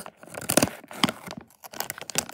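Plastic packaging around a mystery toy figure being cut open and torn, a few close crinkling rips and snips in quick irregular bursts with short pauses between.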